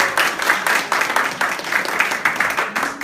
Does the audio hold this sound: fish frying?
no